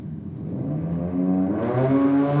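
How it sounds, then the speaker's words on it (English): A Little Sierra race car at a V8 versus I6 theme night does a burnout, its engine droning loudly and climbing in pitch as the revs build, heard alone at some distance. "that was a much bigger burnout there this time from the Little Sierra"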